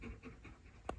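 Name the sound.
dog panting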